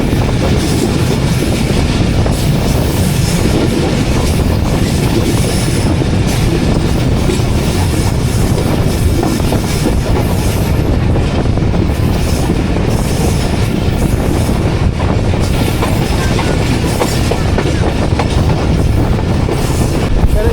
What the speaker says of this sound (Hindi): कैठा रेलवे स्टेशन से पास हो रही है ट्रेन हमारी।